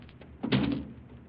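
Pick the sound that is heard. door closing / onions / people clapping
door closing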